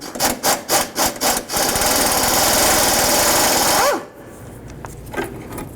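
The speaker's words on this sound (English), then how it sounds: "we're going to remove this bolt right there" A pneumatic impact tool removes a bolt from the front lower control arm of a 2009-13 Mazda 3, first several rapid hammering bursts, then a sustained loud whirring run that stops abruptly, close up.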